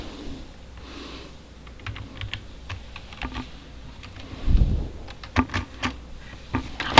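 Rapid clicking keystrokes on a computer keyboard, in uneven bursts that grow louder and sharper toward the end, with no voices.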